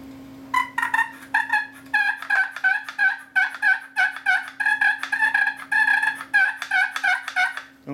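A "7 in 1" push-button turkey call with hooter imitates turkey gobbles in a close, loud, rapid string of rattling clucks and gobbling bursts, with no voices over it.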